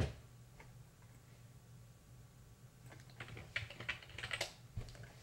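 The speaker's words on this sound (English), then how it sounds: "You got to type in your password and replace." A password is tapped out on a computer keyboard, a short burst of close, quick key clicks that grows busier toward the end over a faint steady hum.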